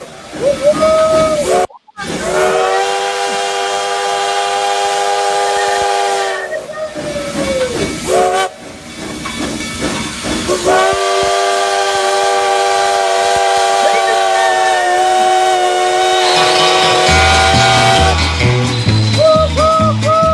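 A shrill steam train whistle blows in long sustained blasts with hissing steam between them, loud and close, broken by short gaps and ending with rhythmic chuffing.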